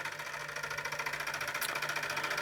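A 1950s Mamod Minor 1 model steam engine runs steadily, freshly oiled, with a fast even mechanical chuffing and rattle held at a constant level, close by and with no voices.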